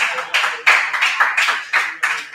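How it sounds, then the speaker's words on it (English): Audience members at an open mic night clap in a steady rhythm, about nine sharp bursts close together in quick succession, with no talking over them. "Clap it up, clap it up,"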